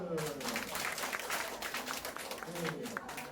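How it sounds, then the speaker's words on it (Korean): A room of older adults and trainees in a dementia-prevention instructor class claps together, a steady broadband patter of many hands throughout, with voices talking over it. "자, 박수"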